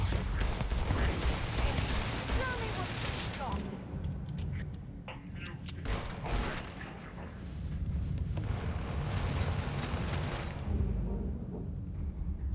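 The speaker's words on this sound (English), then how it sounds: "I'm gonna try the old Earth pistol. The 1911." An old Earth 1911 pistol fires in Starfield: a dense opening burst of shots, then scattered sharp reports, while a person keeps talking over them.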